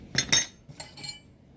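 Metal combination wrenches clink together as they are handled, a few bright, short metallic taps, close and fairly quiet, with no talking.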